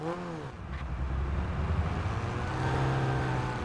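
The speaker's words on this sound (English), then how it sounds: "See how it sounds like a car's right behind me?" A car engine in the driving video game Underground Garage rumbles steadily close behind the player, a continuous low drone that swells slightly midway and holds at a fairly loud level, with no talking.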